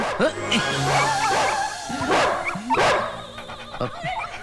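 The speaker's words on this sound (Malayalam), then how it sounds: "എടാ, ഇത് അവളുടെ പട്ടിയല്ലേ?" A dog in a Malayalam comedy scene gives several sharp barks and yips with short whimpering sounds between them, close and fairly loud, and no talk.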